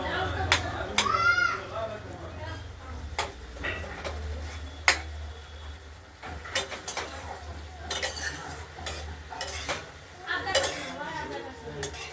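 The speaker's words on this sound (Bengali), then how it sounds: "পালং শাকটা আমরা নাড়াচাড়া দিচ্ছি" Metal spoon scraping and clinking against a pan while spinach curry with potato, flat beans, aubergine and radish is stirred, repeated clatters near and fairly loud over a low background hum, with a voice talking in between.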